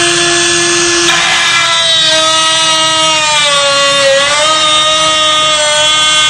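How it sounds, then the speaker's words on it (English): A high-pitched whining drill-like tool reaming a high-security lock fitted with anti-drill pins, a loud continuous tonal whine that wavers and dips in pitch, with no talking. "This is a very special reaming tool, and it just doesn't hardly touch the surface of the lock."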